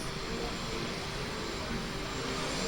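A loud, steady roar of an airplane and helicopters at an airport fills the whole stretch, a continuous dense drone with no pauses.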